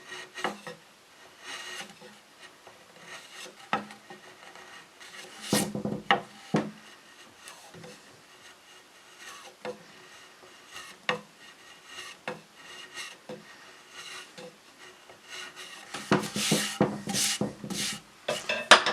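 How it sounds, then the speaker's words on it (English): A very sharp chisel pares through wood on a handmade patio chair, producing quiet, scattered scraping and rasping strokes with a few sharper knocks, close to the microphone and without talk. "with a really, really sharp chisel, just kind of go right through this"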